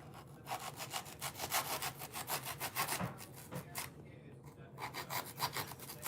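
Spray foam being carved into a nativity scene Christmas decoration, heard as a quiet, steady back-and-forth rasping scrape in quick repeated strokes, broken by one brief pause, with no talking.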